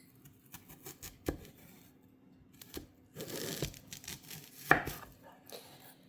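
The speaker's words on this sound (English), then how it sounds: "So we're going to be dicing the onion into small pieces." A knife dicing an onion on a cutting board, giving quiet, close, irregular chops and taps, some single and some in quick bursts, with no talking.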